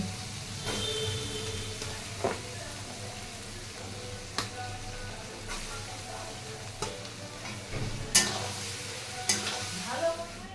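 Fried rice is stir-fried in a kadai, with a quiet background sizzle and sharp, intermittent metallic clinks and scrapes of a spatula against the pan.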